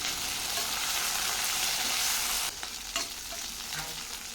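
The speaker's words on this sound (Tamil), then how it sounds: "இப்போது சிம்மில் வச்சுட்டு நல்லா வதக்கி விட்டுக்கலாம்" Green chilies and curry leaves sauté in a pan over a low flame, a steady close sizzle that softens halfway through, with a few scrapes of stirring.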